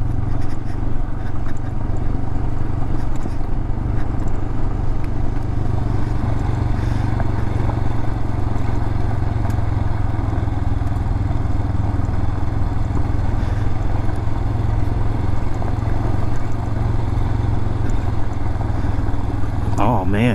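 A motorcycle on a long downhill ride in the Georgia mountains during a camping trip gives a steady, loud engine drone with wind rumble that runs unbroken throughout.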